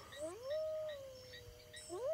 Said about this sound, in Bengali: একটি দুটি শিয়ালের ডাকও মাঝে মাঝে ভেসে আসছে দূরের মাঠ থেকে